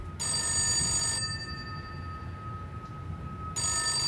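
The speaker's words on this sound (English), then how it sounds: "the phone rang." A telephone ringing loudly and close, two long electronic bell rings with a silent pause between them, alone with no voices.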